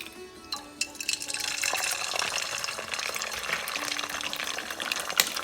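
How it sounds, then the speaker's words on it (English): Eggs hit hot oil in a pan for chilli garlic egg fried rice, giving a loud, steady sizzle and crackle that starts abruptly and holds close up throughout. "the oil is hot, so let's crack some eggs into this"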